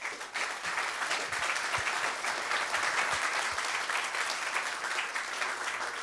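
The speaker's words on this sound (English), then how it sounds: "How about a round of applause for them?" Conference audience applauding panelists after a discussion on patents, standards and innovation, a steady full round of clapping held throughout with no voices.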